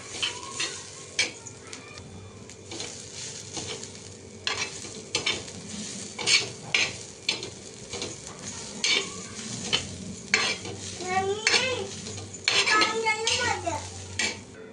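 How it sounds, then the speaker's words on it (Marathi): A masala of onion, garlic and grated coconut is dry-roasted in a pan for a Konkani crab curry, with continuous stirring, a gentle sizzle and repeated metal utensil clinks and scrapes against the pan. There is no talking. "इथे आता मी वाटण भाजतीये, कांदा लसूण आणि खोबरं"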